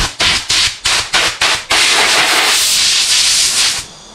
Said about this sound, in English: use the old air compressor. Blow this thing out.